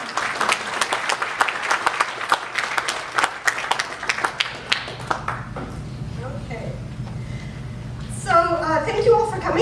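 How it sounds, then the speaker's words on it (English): Audience applause at a talk on autonomous vehicles, a dense burst of clapping through the first half that thins and fades out, followed by a voice beginning to speak near the end. "give them a round of applause because I'm excited"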